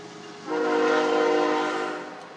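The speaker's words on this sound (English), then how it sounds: "Train." Passing train sounding a long, loud horn, a sustained blast that swells in and holds for about two seconds before easing off, with faint rumble beneath and no talk.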